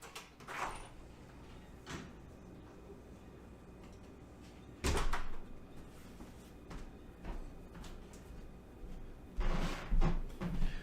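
A front door opening and closing for a FedEx delivery makes a few scattered thumps and knocks, the loudest near the middle and end, against a quiet room.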